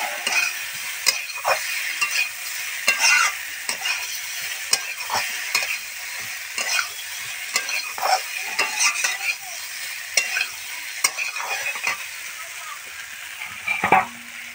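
Soybean chunks being stir-fried with fried eggs and potatoes for an egg soybean curry: a spatula scrapes and clacks against the pan in a steady irregular rhythm over a constant close sizzle, with no talking.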